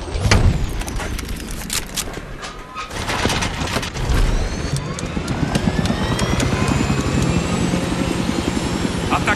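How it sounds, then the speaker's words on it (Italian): An enemy helicopter in the video game Battlefield 3 drones steadily and loudly over gunfire-like cracks and battle noise, its engine and rotor sound building and holding throughout. "elicottero nemico è stato avvistato nell'area"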